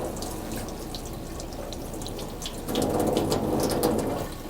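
Water runs over a copper etching plate backed with acid resist at a sink, a steady splashing rush that grows louder and fuller partway through and keeps going.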